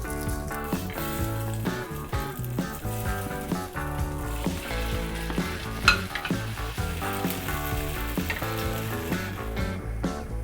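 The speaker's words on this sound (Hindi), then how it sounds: "मैं इन्हें शैलो फ्राई कर रहा हूँ" Sabudana (sago) vadas shallow frying in a pan over a low-medium flame, with a steady soft sizzle running beneath a continuous musical backing track.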